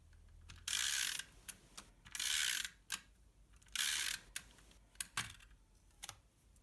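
Repeated bursts of dry, rapid clicking ratchet from an adhesive tape runner, each lasting about half a second, separated by short pauses and a few isolated clicks, close and fairly quiet.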